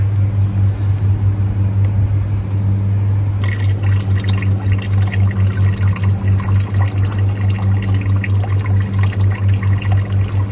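A small solar-powered pond pump runs with a steady low hum, and water splashes and trickles continuously over it.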